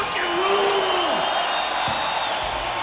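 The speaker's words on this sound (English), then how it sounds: "the audience in Rio is a fucking great crowd" Large concert crowd in Rio at a rock show cheering and whooping loudly, a dense sustained roar with individual yells rising above it.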